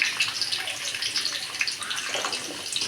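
Small shallots hitting hot oil for a Tamil fish curry give a steady, dense hiss and crackle that holds evenly throughout, close and fairly loud, with no voices.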